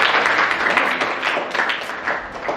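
Steady applause from a small group fills an acting workshop in Pimpalgaon Baswant, a dense, close patter of many hands clapping for a few seconds.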